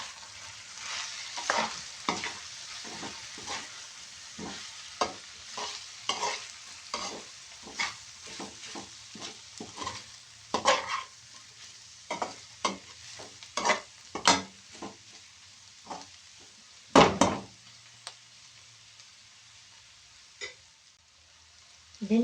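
A spoon stirs ground beef with Cajun spices in a hot frying pan, steady sizzle under a series of scraping strokes and occasional louder knocks against the pan, close up and with no voices.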